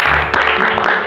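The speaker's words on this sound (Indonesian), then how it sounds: "tim Nanang dan tim Galuh boleh tepuk tangan dulu untuk kalian" Brief burst of audience applause for Team Nanang and Team Galuh at a quiz-style competition, dense clapping filling the whole short moment.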